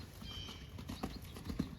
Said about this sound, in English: So you're cantering up the hill